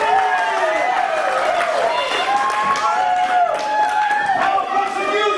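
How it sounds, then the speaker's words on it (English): Crowd applause and cheering from an audience at a tour event, steady and loud throughout with overlapping claps and scattered whoops. "Let's have a big round of applause."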